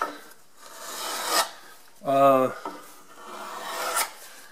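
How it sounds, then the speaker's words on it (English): A hand scraper rasps across wood in a New Hampshire woodshop repair, with repeated scraping strokes, one brief harsher grating pass in the middle, all close and fairly loud. "I'm just going to do this just a little bit longer with the scraper"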